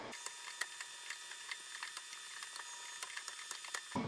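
Ratchet wrench turning a bolt on the water pump fan of a Kubota KX-91-2 excavator, a quiet steady run of rapid fine clicks with small irregular taps, close up and alone, ending with a brief knock.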